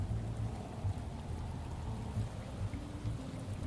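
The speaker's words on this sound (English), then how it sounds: "The rain is killing me." Steady rainfall in the video game Shadows of Doubt patters continuously at a moderate, even level, with occasional soft thuds of heavier drops and no speech.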